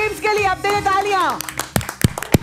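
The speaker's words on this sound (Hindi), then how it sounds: "अब दें तालियां।" A studio audience on a Pakistani television game show breaks into applause right after a host speaks, with a burst of loud, uneven handclaps near the microphone.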